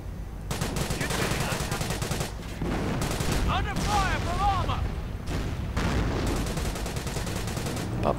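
Bren gun fire and other small-arms shooting in a WWII strategy video game battle, a continuous loud clatter of shots and blasts, with brief gaps and a voice talking over it.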